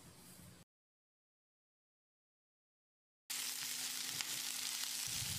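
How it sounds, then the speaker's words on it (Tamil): Small onions fry in oil in a pan for a Tamil brinjal curry, a soft steady sizzle heard briefly, then cut to silence before the crackling returns louder and continuous. "வெங்காயம் கண்ணாடி பதத்துக்கு வர்ற அளவுக்கு வதக்கிடலாம்."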